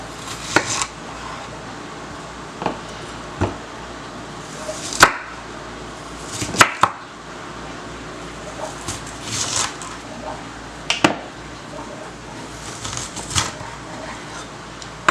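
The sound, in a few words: knife chopping a large onion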